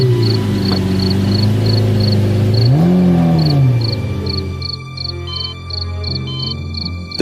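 A car starts and pulls away as a sound effect in a spooky story: the engine hums, revs up and fades off while crickets chirp steadily and birds call in the background.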